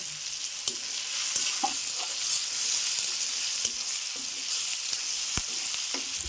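Potatoes and onions fry in a pan for a Bengali banana-flower dish, with a steady bright sizzle and occasional scraping stir strokes throughout.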